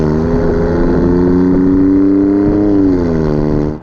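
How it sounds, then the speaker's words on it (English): The 2.9 V6 of an Alfa Romeo Stelvio Quadrifoglio roars steadily from inside the SUV, a loud sustained engine drone with pitch rising and falling slightly as it pulls, then cutting off at the end. "Listen to that engine roar."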